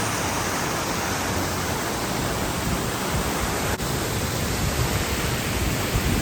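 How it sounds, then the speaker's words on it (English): Steady, dense roar of rushing water, broadband and unbroken throughout, like a waterfall heard close up with no voices; a canyon waterfall on a ranch after heavy rain. "with a lot of rain coming down, you start getting waterfalls everywhere"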